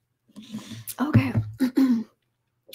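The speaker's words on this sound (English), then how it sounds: "Uh-oh, got the coughs too." A person clears their throat and gives a few short coughs in a quick cluster of rough bursts, close and fairly loud, followed by a brief silence.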